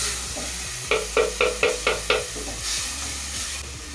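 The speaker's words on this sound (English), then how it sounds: "Then I'm going to add my tomatoes," Blended tomatoes added to curry powder and turmeric frying in a pan for egg curry, with a rhythmic series of about six quick stirring scrapes over a soft steady sizzle.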